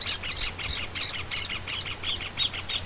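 Small birds chirping close by, a rapid repeating series of bright high tweets in a steady rhythm, with no talking.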